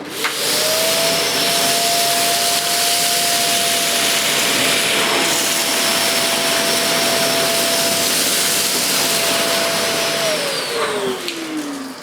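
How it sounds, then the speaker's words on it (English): A Dyson CY22 Cinetic Big Ball Animal vacuum cleaner runs on carpet with its contact head, a loud steady whine that holds without a break and then winds down at the end. "I'm going to now see how the Dyson contact head does."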